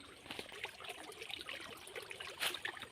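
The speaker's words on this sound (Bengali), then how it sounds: "এই জঙ্গলের ধার দিয়েই ওই জঙ্গলি নদীটা বয়ে গেছে" A river at the edge of a jungle near Jhargram flows past as a soft, steady trickling and gurgling, faint and distant, with no voices.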